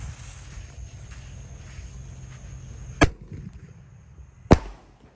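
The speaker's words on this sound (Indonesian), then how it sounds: "ini ada mercon Gatot Kaca. Kita nyalakan. Sudah menyala bosku." Two sharp, loud firecracker bangs go off about a second and a half apart over quiet outdoor night background noise.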